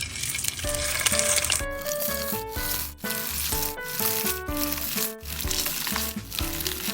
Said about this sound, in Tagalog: nagpainit na ako ng mantika, start na tayo magprito.